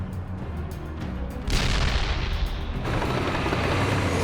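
Japanese 47mm anti-tank guns firing on U.S. tanks in a Pacific battle, heavy booming blasts merging into a loud, sustained roar of gunfire.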